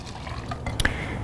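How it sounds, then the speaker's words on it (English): Hot water at 208 degrees is poured into a tea maker, making a brief, close splashing trickle with a few drips over a low background hum. "Pop it into our really great tea maker and add our 208 degree water."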